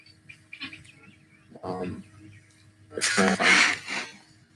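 Guinea fowl kept with hens in a chicken coop call noisily, giving several harsh, raucous bursts that get louder toward the end, with quiet gaps between them.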